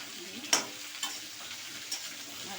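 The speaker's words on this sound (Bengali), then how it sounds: "ভালো করে একটু ভাজা ভাজা করে নিই" Sliced ridge gourd frying in a pan, a quiet steady sizzle broken by three sharp knocks of stirring against the pan, with no talk.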